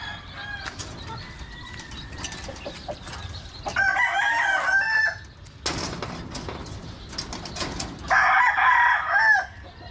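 Chickens cluck and flap their wings nearby at a breeding pen while a rooster crows loudly twice, each call long and strained.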